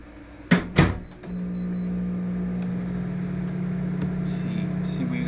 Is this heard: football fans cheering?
no